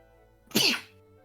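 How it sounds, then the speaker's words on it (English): One sharp sneeze from a person, loud and close, bursting out of a quiet room and fading within half a second. "No, that was me sneezing."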